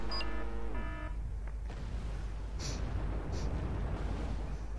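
Cluster bomb airstrike from F-18 bombers in the war strategy game Wargame: Red Dragon, a string of muffled booms and rumbling detonations following an electronic beep tone, fairly distant and without talk.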